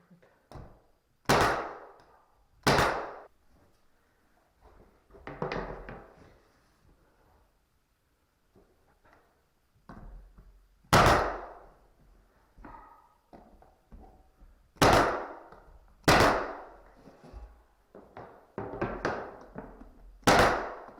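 Wainscoting boards being nailed into wall studs: sharp, separate hammer strikes ring out in irregular bursts, some single and some in quick pairs, with quiet gaps and softer taps and thuds between.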